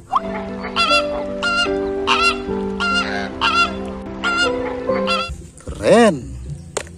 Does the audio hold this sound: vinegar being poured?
no